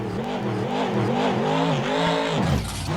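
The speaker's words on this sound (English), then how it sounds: "Tom Mentz hammers the throttle" A monster truck engine in the Rigs of Rods simulator, racing at a Brisbane Monster Jam event, revs hard with rising and falling pitch in a loud, close, continuous roar, then cuts off sharply near the end.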